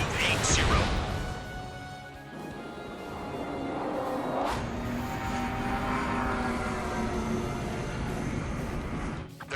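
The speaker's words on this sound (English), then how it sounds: "Aircraft approaching at high speed" Fighter drones in the Ace Combat 7 video game roar past at high speed, a loud sustained jet rush with a whooshing pass near the start and another mid-clip, under game radio chatter.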